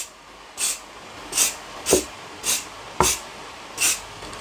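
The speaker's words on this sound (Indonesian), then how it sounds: "Jadi beberapa kali nanti kita akan semprotkan ya supaya tidak berbekas." Short spray bursts of paint applied to a puttied table, six separate hissing blasts about half a second each at a steady rhythm, close by and fairly loud against a quiet background.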